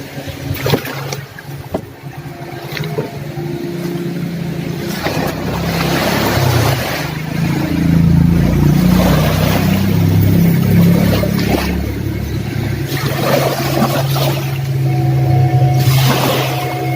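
A motorboat is brought in close by, its engine a steady loud drone that swells and churns over about seventeen seconds, with water and surf noise around it.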